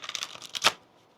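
A brief riffle of tarot cards being shuffled, crisp papery flutters building to a sharp snap, close up and then falling quiet.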